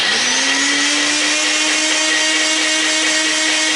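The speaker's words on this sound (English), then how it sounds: "Simply put this into your blender and then blend it, and that's gonna whip air into it" A blender whips almond milk into cold foam, a loud, steady motor whine with a rising pitch at startup, close and continuous throughout with no talking.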